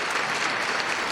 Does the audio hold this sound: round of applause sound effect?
yes